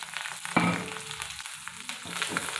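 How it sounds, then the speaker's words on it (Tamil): Onions and curry leaves frying in hot oil with popped mustard seeds, a steady crackling sizzle with a sharp clatter as they go into the pan, continuing close and even throughout. "கடுகு நல்லா பொரிஞ்சிட்டு அது கூட நான் வெங்காயமும் கருவேப்பிலையும் சேர்த்துருக்கேன்."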